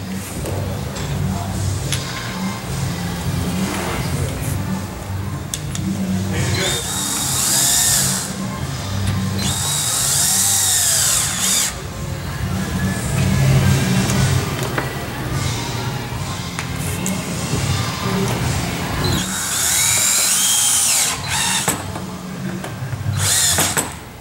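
A power drill whirs in repeated loud bursts, drilling screws out of an arcade cabinet, with short pauses between runs, while faint voices talk in the background.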